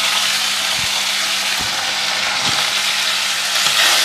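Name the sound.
tilapia fish frying in hot oil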